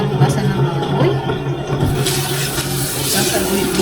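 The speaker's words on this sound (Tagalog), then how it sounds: "i-drain natin ang tubig na pinaghugasan ng baboy." Water used to wash pork drains from a kitchen sink, a continuous gurgling rush that swells louder toward the end, close by, with no speech over it.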